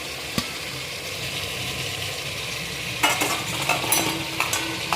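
Oil sizzles steadily under a tempering of tomato, shallots, garlic and mustard, then crackles and hisses louder and more busily as chopped brinjal goes into the pan.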